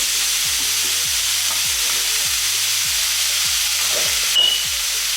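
Ground meat seasoned with salt, pepper and garlic powder fries in a pan for lasagna, giving a loud, steady sizzle and crackle close up, with no talking.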